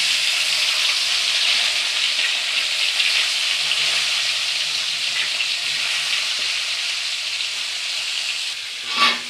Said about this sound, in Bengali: এখন আমি ফুলকপিগুলো ভেজে নেব।